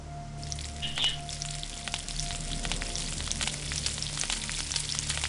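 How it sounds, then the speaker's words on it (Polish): Meat frying in the video game Gothic, a steady crackling sizzle with sharp pops and spits over a low hum, heard alone. "Smażymy mięsko."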